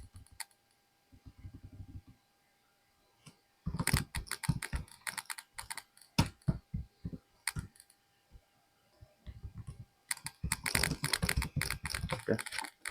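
Code being typed on a computer keyboard: bursts of rapid, close key clicks separated by pauses, with a few brief spoken words in between.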